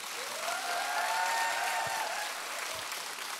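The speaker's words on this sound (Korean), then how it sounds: "하나님께 감사하고 영광의 박수를 드리겠습니다" A church congregation at a Friday evangelism service gives steady applause, many hands clapping in a dense wash that swells and then eases slightly, heard without speech.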